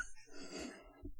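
A single short, muffled cough, close and fairly quiet, with a rough throaty burst and a faint second push at the end.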